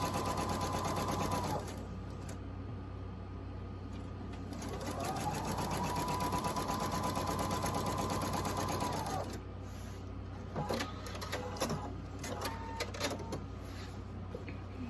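A sewing machine stitching a table runner seam along a quarter-inch guide, a close steady whirring hum in two long runs, then brief clicks and handling noises.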